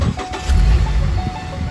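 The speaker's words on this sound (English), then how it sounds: "Start the engine." A Ford Escape engine turns over and catches during a transmission fluid change, a short low rumble with a brief cranking burst settling into a steady idle close by.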